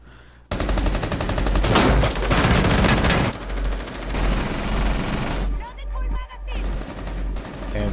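Dense, loud automatic gunfire rattles in rapid bursts as Buck shoots through floors during a Rainbow Six Siege tournament match. The shots run almost continuously for several seconds with brief lulls.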